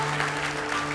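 A church congregation claps for God during a worship service, a steady, dense wash of applause lasting about a second, with a low electrical hum running underneath.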